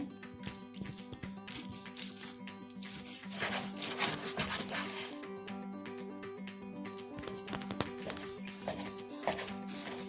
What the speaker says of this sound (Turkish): Şöyle çok kalın olmadan daha ince parçalar halinde.